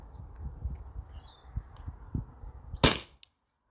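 Salt Supply S2 CO2 launcher fires one sharp, loud shot near the end, preceded by faint low thumps and handling noise, then silence.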